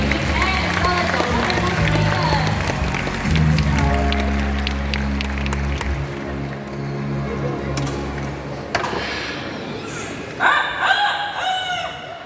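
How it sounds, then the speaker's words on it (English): A rooster crows at a bird park in Singapore during a bird show, its harmonic call ringing out near the end after steady crowd noise, applause and nearby talk. "A rooster here in the park."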